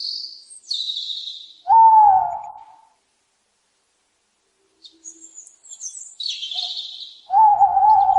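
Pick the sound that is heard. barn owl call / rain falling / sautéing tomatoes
barn owl call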